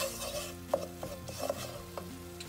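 Milk being mixed slowly into a pan for a gravy-like cauliflower cheese sauce, with a spoon scraping and knocking against the pan in uneven strokes over a low steady background, no talking.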